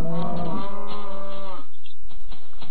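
Cows in the Minecraft video game moo in a long, loud low call with clear harmonic tones, then the sound fades into quiet soft noise with no talk.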